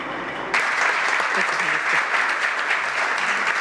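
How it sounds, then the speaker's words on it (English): Audience applause at the close of a conference panel in Santo Domingo, breaking out suddenly after a quiet moment and continuing as a dense, even round of clapping from a room full of people. "with this warm round of applause, we finished the panel"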